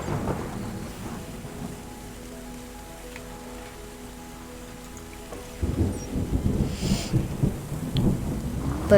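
In the video game Terra Nil, a low thunder rumble rolls under steady rain, then a heavier downpour of patter rises partway through.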